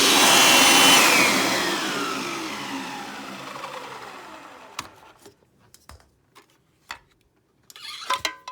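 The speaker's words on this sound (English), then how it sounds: "you pretty much hook the hose and lock the little locking tab in place, and it's now a blower" A Kirby Ultimate G3 upright vacuum set up as a blower roars loudly, then winds down with a falling whine over several seconds, followed by scattered clicks and knocks in near silence.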